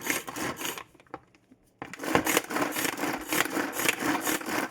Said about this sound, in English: Repeat this process until all the garlic is finely chopped.